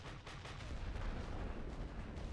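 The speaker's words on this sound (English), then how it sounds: "there's where the artillery barrage is going to start" Artillery barrage in the World War I strategy game The Great War: Western Front, a faint, dense rumble of distant shelling with overlapping booms blending into a continuous roar.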